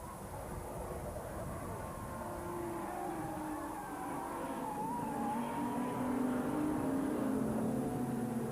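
V6-engined silhouette race cars from the 1995 Eurocar V6 Championship race at Mallory Park, their engines whining and rising and falling in pitch as they lap, heard continuously at moderate distance under a broad roar.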